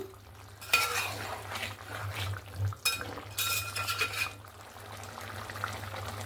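Desi chicken being stirred in a cooking pan, with close metallic scraping and clinking of a utensil against the pan in bursts, and a faint sizzle underneath.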